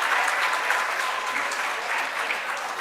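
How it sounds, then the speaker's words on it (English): A round of applause at a team meeting in a hall, with steady, moderately loud clapping from many hands and a faint murmur of voices. "Give a round of applause."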